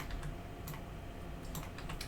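Computer keyboard keys click in quick scattered taps while a user works in 3ds Max modeling software, faint and close over a steady background hiss.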